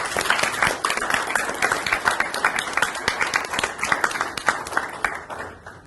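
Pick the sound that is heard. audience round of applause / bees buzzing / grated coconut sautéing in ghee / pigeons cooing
audience round of applause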